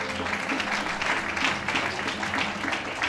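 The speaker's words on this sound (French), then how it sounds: "Est-ce qu'on peut acclamer très fort?" A congregation at a church service applauds and cheers loudly in a steady, dense wash of clapping and voices that holds for the whole stretch.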